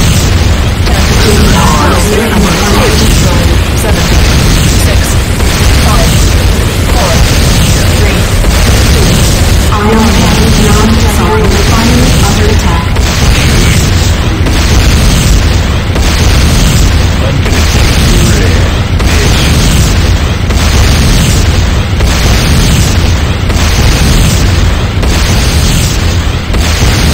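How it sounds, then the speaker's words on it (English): A structure blowing apart in Renegade, the Command & Conquer shooter: a loud, sustained run of booming explosions and bursts fills the whole stretch, dense and continuous, with voices and game effects underneath. "structure destroyed"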